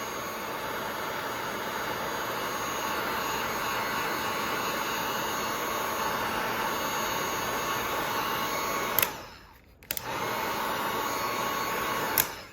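Heat gun blowing on heat-shrink tubing over dash cam wiring in a 2021 Range Rover L405, a steady close airy roar that cuts out briefly near the end, then resumes.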